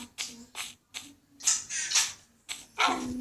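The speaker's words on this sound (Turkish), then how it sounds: "Bak köpek var burada." A small dog in Minecraft barks several times in short bursts, the yaps coming in uneven pairs with brief gaps between them.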